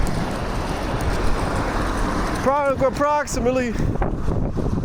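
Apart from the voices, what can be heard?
strong wind outdoors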